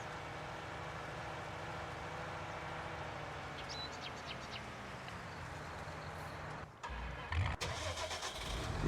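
A tractor engine hauling a tipper in Farming Simulator 19, a steady mid-pitched drone under a constant mechanical hum, with a couple of sharp clunks near the end.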